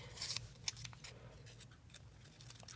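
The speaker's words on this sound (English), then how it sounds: "I just come out in here with scissors" Scissors snip repeatedly through paper in a quiet room, a series of short crisp cuts with brief pauses between them.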